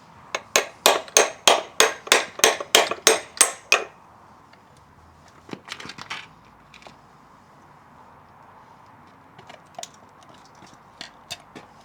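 Outdoors, a hammer pounds at a badly corroded flywheel on a Honda CR 125. About a dozen loud, evenly spaced metallic blows come in quick succession, followed by a few scattered softer knocks and clinks.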